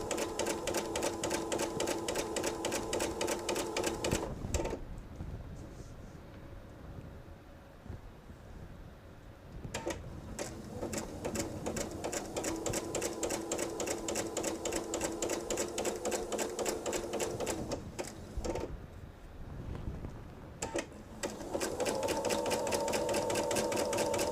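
A sewing machine stitches log cabin quilt fabric in long, rapid, even runs, close and steady, pausing briefly a few times before starting up again.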